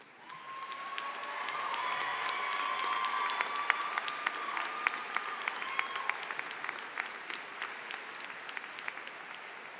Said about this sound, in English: Will all cum laude students please stand now so we may applaud your achievements